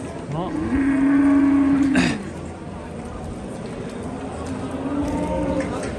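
A cow lets out a long, loud low moo close by at a livestock market, followed by fainter lowing from bulls and general market noise in the background.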